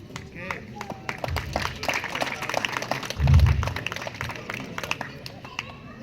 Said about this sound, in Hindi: तालियां मेरे ख्याल से जादू के हिसाब से कम है शायद।